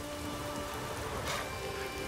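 Heavy rain pours in The Witcher 3, a dense and even hiss with no letup. Faint tones from the game sit beneath it, and no one speaks.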